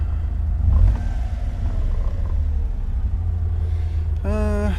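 A 1990 Honda Acty van's small engine idling steadily just after starting, a close low rumble throughout with a brief tonal whine rising near the end.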